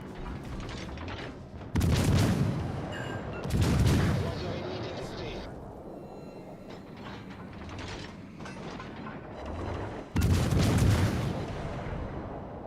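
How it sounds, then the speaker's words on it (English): German battleship main guns fire HE shells in World of Warships: Legends, with heavy booming salvos arriving as three loud bursts spaced apart, mixed with mechanical clanking and game voice callouts. "What is it with these German battleships constantly shooting HE?"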